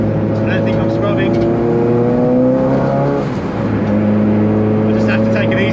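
Supercars run on a race track, their engines whining loud and near with rising and falling pitch as they approach from behind, while a person talks over the steady drone.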